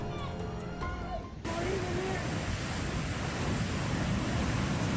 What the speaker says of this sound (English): people in the Philippines stood dangerously close to the crashing waves